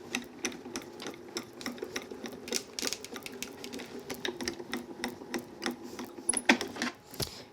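A die-cutting machine carries an embossing plate and mat through its rollers, giving a quiet, close run of rapid mechanical clicks and rattling ticks in an uneven rhythm for several seconds.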